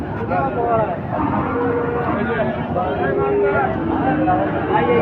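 Sahiwal bulls low repeatedly at a busy, noisy cattle market, with people talking loudly all around them throughout.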